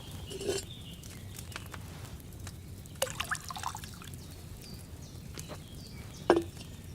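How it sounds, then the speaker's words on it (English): Wine pouring into a cauldron in the medieval video game Kingdom Come: Deliverance, a soft liquid trickle and dripping with occasional splashy accents and a louder splash near the end, without talk. "what did you pour in there? Wine, of course."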